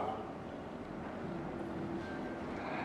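A Mitsubishi wall exhaust fan with its cover fitted runs with a low, steady rumbling whoosh, quiet and constant from start to finish with no breaks.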